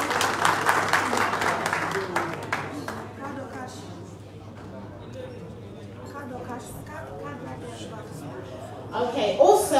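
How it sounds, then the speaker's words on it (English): At a town hall meeting and fundraiser in Manchester, UK, a crowd claps for a few seconds, then the applause fades into murmured chatter and talk, with a low steady hum underneath. "Can we please give him a round of applause?"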